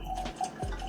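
Glenfiddich Perpetual whisky poured from a bottle into a glass, a brief close trickle and splash of liquid with a faint steady hiss.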